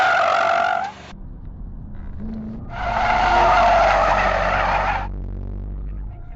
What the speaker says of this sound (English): Turn 12R was a great spot to slide out the tail on the Shelby GT and the 350Z